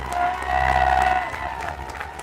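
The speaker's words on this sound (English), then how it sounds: "Very warm round of applause" Applause and cheering from a crowd at a national rowing championship award ceremony in Sri Lanka, honoring Asian International School for most junior boys' gold medals; steady, fairly loud clapping over a low hum.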